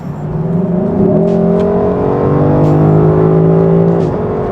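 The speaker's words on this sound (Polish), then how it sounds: "Jak słyszycie, brzmi ta V8" A loud, close Lexus LC 500 V8 engine rumbles and revs steadily, its deep tone rising and holding, with no talking.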